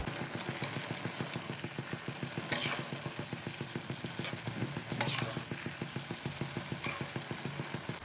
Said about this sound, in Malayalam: 1/4 ടീസ്പൂൺ ഉലുവാപ്പൊടി ഒക്കെ ചേർത്ത് നന്നായിട്ട് മിക്സ് ചെയ്യാം.